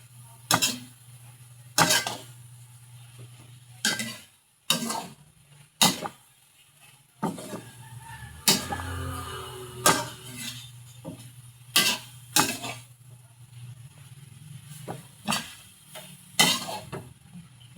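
A utensil stirring bitter melon (ampalaya) in a cooking pan, making sharp intermittent clinks and scrapes every second or so over a steady low hum, close and moderately loud, with no talking.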